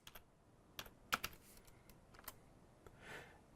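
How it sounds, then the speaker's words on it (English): Quiet, close computer keyboard typing while entering a share name into a command on a Windows 10 desktop virtual machine: scattered individual keystrokes with a few sharper clicks and uneven pauses, no voice. "you'll notice that I'm just typing in lowercase"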